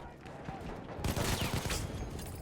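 An MG15 machine gun in Battlefield 1 opens up in a sustained rapid burst of automatic fire. The burst comes in suddenly partway through and stays loud and dense to the end.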